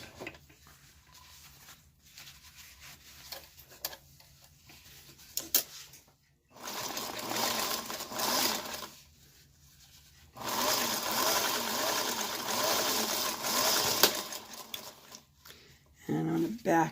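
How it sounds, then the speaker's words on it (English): A sewing machine stitches a curved seam along the front of a floppy fabric bunny head, with two sustained bursts of steady motor-driven stitching separated by pauses and quieter handling noise. "I'm going to sew from where my nose spots started down around that curve to where that pin is"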